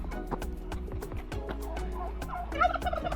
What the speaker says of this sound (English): he's just a gobbling away, ain't he?